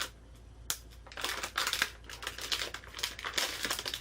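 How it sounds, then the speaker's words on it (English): Knockoff scissors snipping and cutting into plastic packaging of a WWE Slam Crate, with sharp clicks followed by crinkling and crushing of the wrapping, close up and without speech. "I'm going to use my knockoff scissors here. Try to get in."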